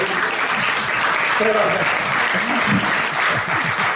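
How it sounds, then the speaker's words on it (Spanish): Steady audience applause fills the room at a Spanish-language talk event, dense clapping throughout with a host's voice speaking briefly over it. "Un aplauso para Adán,"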